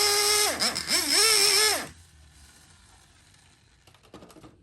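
A Traxxas Jato 3.3 nitro RC car engine revs hard and close, a high-pitched rising and falling whine that cuts off abruptly after about two seconds, leaving quiet background with a brief rattle near the end.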